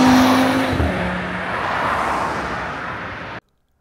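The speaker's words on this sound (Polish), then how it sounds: "Samochód ma nie tylko świetne właściwości jezdne, ale też genialny dźwięk silnika." A 2024 Cupra Formentor VZ5 with a 390 hp engine revs up loudly and accelerates in one continuous surge, cutting off abruptly.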